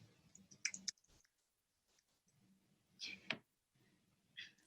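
Sharp, close mouse clicks from a software demo of adding a task entry, a few scattered single clicks and a quick double click over a quiet room background.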